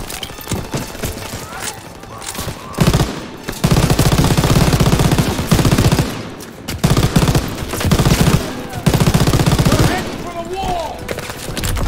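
Machine gun fire in Call of Duty: WWII, long rattling bursts of rapid shots, loud and close, broken by short pauses, with shouting voices mixed in.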